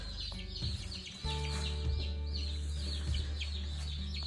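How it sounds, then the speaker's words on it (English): Chickens on a homestead cluck and squawk as they are dumped into a pen, with several close, overlapping calls over a steady low hum that runs the whole time. "So I'm just gonna keep dumping chickens in here until we have them all in."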